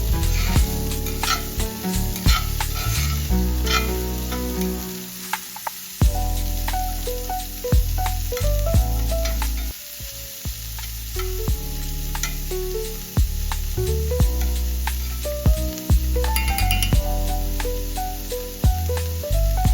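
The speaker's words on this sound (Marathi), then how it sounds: "कांदा छान लालसर होईपर्यंत भाजून घ्यायचा." Onion fries in a pan until reddish for shev bhaji, a loud, continuous close sizzle with stirring, running under steady background music throughout.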